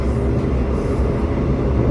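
Passenger train Tambahan GMR YK running on rails, a loud steady low rumble and roar heard from inside the moving train, continuous without breaks.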